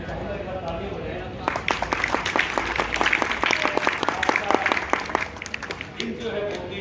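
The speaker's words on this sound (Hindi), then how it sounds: "एक बार ताली हो जाए।" Applause from a school audience at a celebration, a dense run of many hands clapping that swells, holds for several seconds, then thins out near the end.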